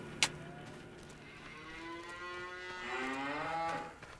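Cattle moo repeatedly in a farming survival video game, long drawn-out calls rising and falling near a base-game cow pasture, with a brief sharp click at the start and no talking.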